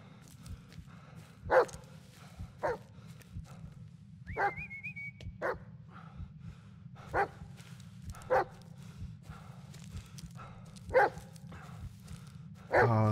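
A dog in the Blair Witch video game barks in sharp separate bursts over a steady low drone, with occasional whimpers and a brief whistle, spaced irregularly throughout.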